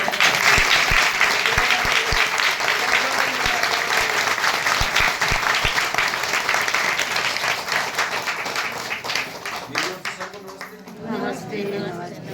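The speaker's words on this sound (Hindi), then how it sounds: "एक बार जोरदार ताली।" A crowd applauds loudly and continuously, clapping spread across many hands, gradually thinning out toward the end.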